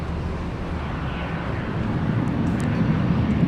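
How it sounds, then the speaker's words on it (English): A Lufthansa Airbus A380 from Munich landing at LAX gives a steady, broad jet roar at moderate distance that swells slightly toward the end, with no talking. "our first A380 of the day coming in from Munich. This will be Lufthansa 452 Super"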